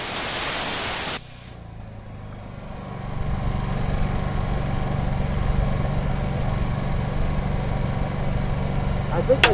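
A generator runs in a workshop while a winch mount is built for a trailer, droning steadily with a low hum close by after a brief burst of loud noise at the start; a voice may be heard over it.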